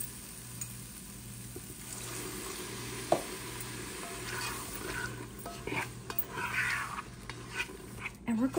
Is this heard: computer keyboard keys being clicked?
no